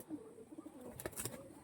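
A pigeon coos softly nearby in a pigeon keeper's loft, a short low rolling call with a few faint handling noises.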